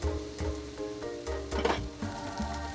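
Minced garlic, scallion and mushrooms fry in hot oil, giving a close sizzle broken by rhythmic stirring scrapes, with no one speaking.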